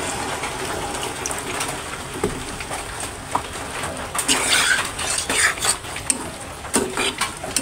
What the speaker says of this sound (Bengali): তো এটা আমি এখন জলের পানি দিয়ে দিতেছি।